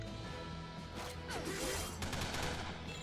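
Rifle gunfire in the action video game Shank 2: a dense burst of rapid shots and crashing impacts over game music and effects, fairly loud throughout.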